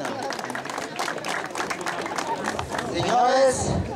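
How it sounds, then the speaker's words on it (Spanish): Rhythmic crowd clapping at a community stadium inauguration in Comitancillo, San Marcos, Guatemala, fast, dense claps mixed with chatter and a voice, swelling louder near the end. "Fuerte los aplausos, por favor."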